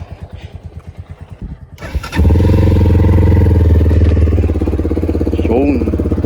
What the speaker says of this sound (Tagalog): yung tunog ng tambutso ng Tempest